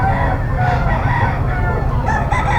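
A brass back stag rooster crows loudly and close at a poultry seller's market in Bocaue, one long drawn-out call filling the moment alongside other clucking fowl.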